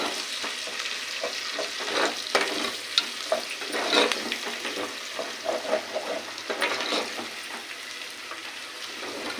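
Onions and tomatoes fry in a pan, a constant sizzle with repeated clinks and scrapes of a spoon stirring through it.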